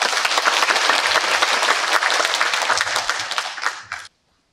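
Loud, sustained applause from a crowd welcoming a priest at a hospital ministry symposium, dense and steady clapping that fades and stops abruptly near the end.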